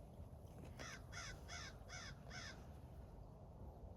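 A crow caws five times in an even, evenly spaced series at moderate distance over a steady low background hum, then falls quiet.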